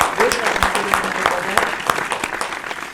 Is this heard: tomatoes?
no